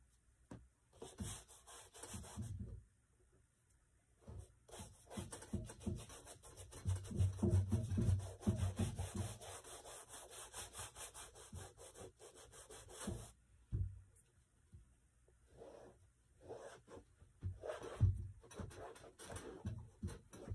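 Steady back-and-forth scrubbing of a cleaning brush across a grimy surface, rhythmic rasping strokes in bursts with brief pauses, close and moderately loud, no voices.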